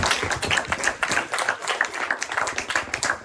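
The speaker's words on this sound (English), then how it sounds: "Please, another round of applause" An audience at a university debate event in London gives another round of applause, many hands clapping in a dense, steady patter that holds for several seconds at moderate volume.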